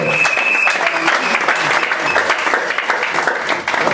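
A crowd at a UDPS party cell gathering in Limete claps continuously, a loud, even wash of applause with a voice briefly audible beneath it.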